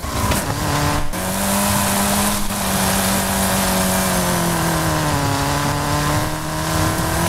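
A car driving in Fortnite, a steady loud engine drone with gradual pitch shifts as it accelerates and cruises, continuous throughout with no talking.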